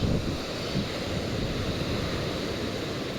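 Sea waves wash onto the shore in Bulgaria with heavy wind buffeting the microphone, a steady loud roar of surf and gusts with no speech.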